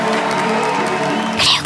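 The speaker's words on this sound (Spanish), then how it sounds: "Un aplauso para Leisa." A crowd applauding and cheering in a chemotherapy support setting, a dense wash of clapping with a brighter swell of cheers near the end of the short burst.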